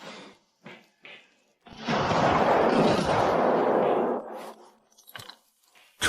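A single loud, close blast from a gun's first test shot, a broad roaring burst that holds for about two and a half seconds before fading, with scattered small knocks and rustles around it.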